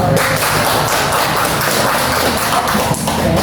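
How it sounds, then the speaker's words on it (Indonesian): Steady, dense clapping from a classroom audience fills the space without a break, loud and close, after a teaching presentation. "kita berikan aplaus untuk kita semua dulu"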